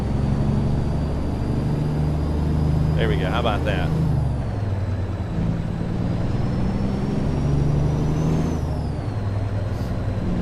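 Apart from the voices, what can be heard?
truck engine and air brake sounds in a truck driving video game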